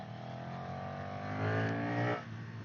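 A Brabus 1300R motorcycle in road mode hums along steadily with a smooth engine drone that swells briefly as it accelerates, then settles back, heard without talk.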